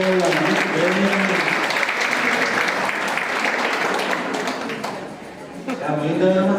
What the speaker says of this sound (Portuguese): da salva de palmas para ela